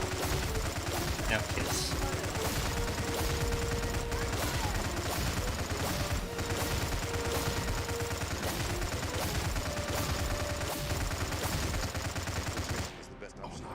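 Continuous rapid gunfire from Stargate: Empire at War, dense rattling bursts under game music and effects, with a voice talking briefly.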